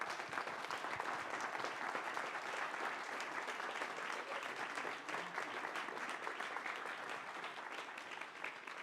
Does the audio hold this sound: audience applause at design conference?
yes